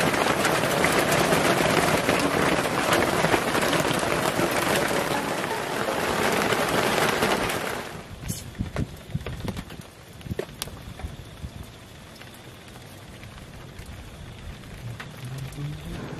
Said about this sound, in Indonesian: hujannya sudah agak reda, walaupun gerimis seperti ini